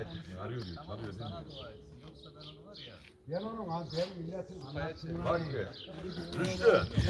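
Pigeons cooing and calling close by in a loft, soft repeated coos mixed with chirps, with someone speaking nearly throughout over them.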